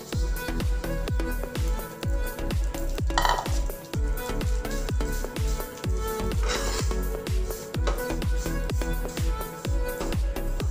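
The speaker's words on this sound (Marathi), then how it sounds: "आपण शेवया पण भाजून घेऊया।" Vermicelli roasting in ghee in a kadhai, stirred with steady, repeated scraping and clinking strokes at a regular rhythm, up close and fairly loud, with a soft sizzle underneath and no talking.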